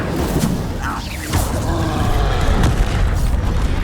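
Incendio fire spell cast in Hogwarts Legacy, a loud booming burst with a whooshing rush, followed by sustained rumbling effects.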